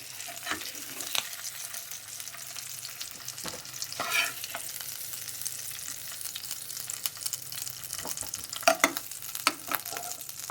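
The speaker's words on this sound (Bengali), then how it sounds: "তো বন্ধুরা আলুগুলো সব ভাজা হয়ে গেছে, মানে হালকা করে ভেজে নিয়েছি। এবার আমি একটা জায়গায় তুলে নিচ্ছি।" Lightly fried potatoes crackle in oil in a pan for an egg curry as they are lifted out, with a continuous sizzle broken by scraping and clinking of a utensil, close and without speech.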